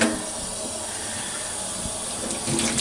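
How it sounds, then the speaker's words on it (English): A steady, hissing rush of running water from a tap, reduced to a small stream for washing makeup brushes, continuous and fairly close, swelling slightly louder at the end. "And I turn on the water"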